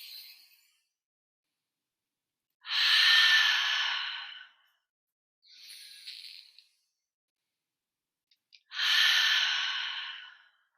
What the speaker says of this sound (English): Inhale through the nose. Inhale, reach the arms up. And big exhale out the mouth.